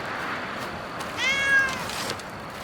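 A cat in the video game Blacktail gives a single short, rising-then-falling meow over a faint steady background hiss, with no speech.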